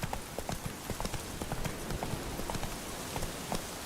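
Horse hooves gallop in The Witcher 3: Wild Hunt, a fast regular clip-clop rhythm of a running game horse, clear and close, without speech over it.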